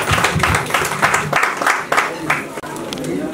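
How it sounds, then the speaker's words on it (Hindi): An audience at a Christmas and New Year stage event claps on request, with uneven bursts of hand-clapping mixed with a speaker's voice over a PA. "प्लीज जोरदार तालियां बजा दें।"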